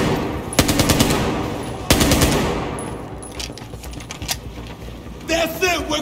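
Battlefield 4 campaign firefight in Shanghai, with loud rapid bursts of automatic gunfire in two heavy volleys, scattered shots between and a voice calling out near the end.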